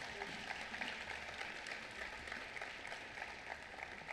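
An audience at a school Veterans Day assembly gives a faint, steady round of applause for the cadets and band, heard from a distance as an even patter of many hands.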